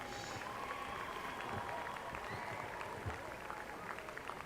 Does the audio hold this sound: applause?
yes